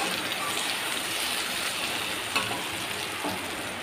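Potato and pointed gourd stir-fry in a pan, a continuous dense sizzle with a faint scrape or two, close and even throughout.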